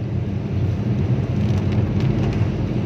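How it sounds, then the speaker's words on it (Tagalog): Steady, dense rain noise fills the whole stretch, a loud continuous downpour with a low rumbling hiss and no voices. "Ayan, sobrang lakas ng ulan."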